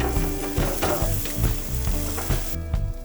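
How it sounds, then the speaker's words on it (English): A tomahawk ribeye steak, heavily seasoned with fresh ground pepper, sears on a very hot gas grill with a loud, continuous sizzle and periodic low thumps, close and unbroken by talk. "we got it searing right now"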